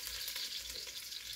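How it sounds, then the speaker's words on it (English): An onion frying in a pan gives off a dense, even hiss of sizzling oil, close and steady for the brief moment, with no voices over it. "And you burn your onion."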